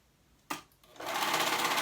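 A sewing machine stitches the short raw edges of a fabric pants waistband together; a sharp click, a short pause, then a loud, steady, fast motor whir that runs on to the end.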